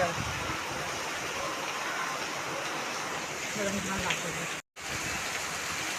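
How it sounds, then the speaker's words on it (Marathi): Steady rain falls with gusting wind, a dense even hiss close to the microphone that cuts out for a split second near the end. "बापरे काय पाऊस आहे वारा आणि पाऊस दोन्ही एकत्र"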